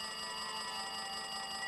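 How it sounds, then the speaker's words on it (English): A telephone rings in the video game Danganronpa 2, a steady electronic trill holding level for the whole stretch, with no voices over it. "It looks like that phone is ringing."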